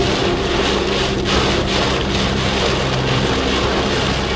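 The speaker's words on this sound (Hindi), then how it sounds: "भाई, बहुत बहुत बहुत खतरनाक वाली बारिश हो रही है।" Loud, unbroken rain from a thunderstorm roars steadily, a dense wash of hiss with a low rumble beneath it and no voices.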